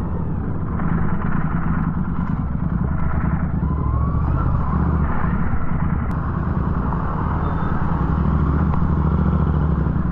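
A motorcycle rides across a high bridge in Tanay, Rizal, its engine droning loud and close with a steady low rumble and some rattling clatter throughout.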